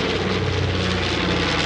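North American B-25 Mitchell bomber at the 2016 New York airshow, a loud, steady piston-engine and propeller roar, close and continuous with no talk.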